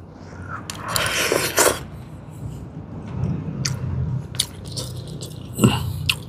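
Someone bites and chews a crisp wild vegetable, heard as a close run of crunchy bites and wet chewing with an irregular rhythm and no speech.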